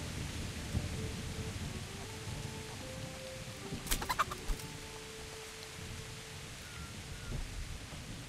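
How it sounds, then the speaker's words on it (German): Chickens clucking in the medieval role-playing game Kingdom Come: Deliverance, a scattering of short, faint clucks spread over a steady low ambient bed, with a brief louder burst of sharper calls midway. "Hier sind halt ganz viele Hühner"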